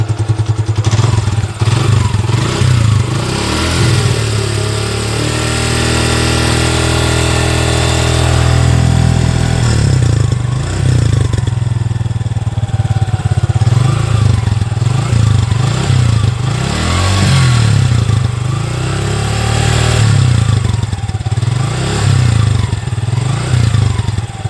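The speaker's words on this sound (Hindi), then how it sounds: "अभी हम गाड़ी को स्टार्ट कर रहे हैं और अभी इसका साउंड कैसा है 5000 किलोमीटर चलने के बाद आप सुन लीजिए।" A Suzuki Gixxer SF 150 motorcycle with 5000 km on it starts and idles, then revs repeatedly. The steady close engine note swells and falls in several blips, with no talk over it.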